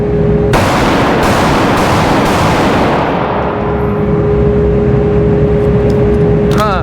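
A single loud SIG pistol shot cracks out at close range during a grip and muzzle-rise test, then a long ringing decay with steady background noise and a faint tone.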